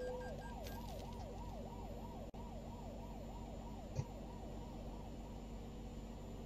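A wailing police siren in Euro Truck Simulator 2 cycles up and down repeatedly over a steady truck engine drone, loud and continuous, with a brief dropout and a short thump.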